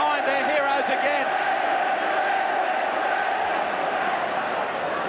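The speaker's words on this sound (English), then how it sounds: "This crowd get behind their heroes again." A stadium crowd roars continuously at a 1990 Great Britain versus Australia rugby league Test match, a dense, loud wall of cheering with a commentator's voice over the top.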